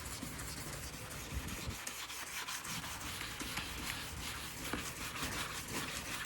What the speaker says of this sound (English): I'm gonna sand this a little bit more and then see how it comes out after.